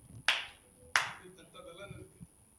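Two sharp, loud hand claps ring out close together at a church gathering, followed by softer scattered sounds and faint murmuring in the background.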